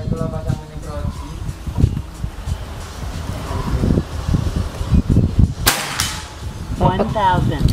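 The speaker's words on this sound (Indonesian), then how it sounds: "Kita lanjut lagi ke tembakan yang ketiga" A single sharp, snappy crack from a PCP Bocap FX Crown air rifle cuts through a long-range accuracy test outdoors, brief and loud amid steady conversation and light wind.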